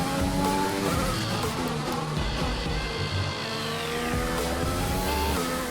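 A Jordan Formula One car from F1 2020 screams around the Sochi track, its high-revving engine climbing and shifting through gears, loud and close throughout.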